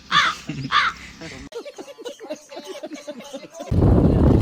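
Crows caw repeatedly in short, rhythmic calls at moderate distance outdoors near a cricket ground, following a stretch of voices and ending in a burst of broad noise.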